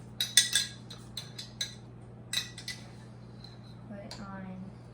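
A spoon clinks and scrapes against a jar of pizza sauce in short, close taps, part of making air-fryer tortilla pizza bites.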